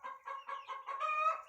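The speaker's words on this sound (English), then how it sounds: "we got a hen in here laying an egg" A hen in a nest box mid-lay gives a run of steady, evenly spaced clucks that rise into a louder, drawn-out cackle near the end, close and with nothing else heard.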